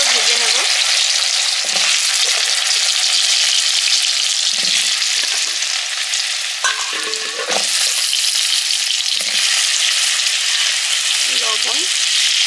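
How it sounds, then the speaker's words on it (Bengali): Taro pieces fry in hot oil seasoned with black cumin and a little turmeric, giving a loud, continuous close-up sizzle broken by several brief scraping stirs. "কচুগুলো ভেজে নেব।"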